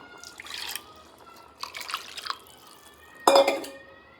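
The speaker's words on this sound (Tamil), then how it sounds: "மிச்சத்துக்கு தண்ணியை சேர்த்திடலாம்." Water is poured into a pot of vegetable biryani in three short bursts, splashing and trickling against the metal with quiet pauses between.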